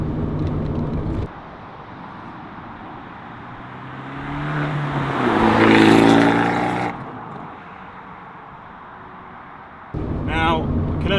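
An Abarth 124 Spider's engine and exhaust swell into a loud, rising rev midway, then settle, with wind rush and a voice speaking at the start and end.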